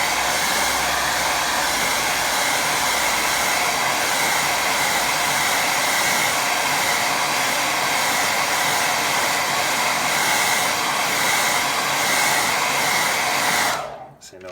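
A hair dryer blows steadily over a watercolour painting of boats on a lake. Its loud, continuous whooshing drone holds for about fourteen seconds, then cuts off abruptly.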